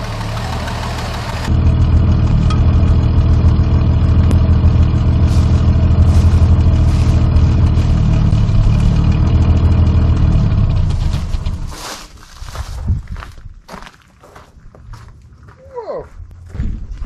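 A 1973 Dodge Dart Swinger barn find engine starts after sitting 29 years, running loud and steady with a rough, knocking idle for about ten seconds before it cuts out, leaving faint talk and handling noises.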